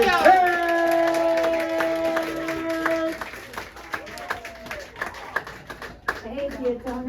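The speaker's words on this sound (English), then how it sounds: "I want you to give a big round of applause for" Comedy club audience in Peotone, Illinois applauding and cheering as a comedian takes the stage, scattered claps and whoops rising under a sustained tone, with a voice speaking near the end.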